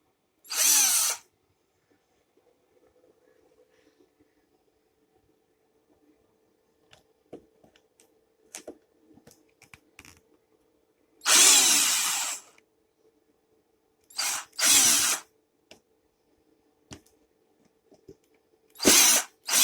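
Power drill removing screws from the back of a Yamaha PSR-S950 keyboard: short loud whirring bursts separated by quiet gaps, with faint clicks and handling noises between them.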